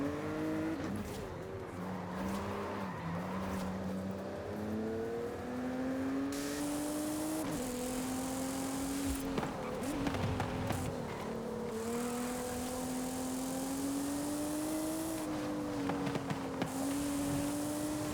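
A rear-wheel-drive Nissan GT-R in Forza Horizon 5 drives a Japanese-style touge road. Its engine drones steadily and rises and falls through shifts, with occasional tire noise, continuous and close.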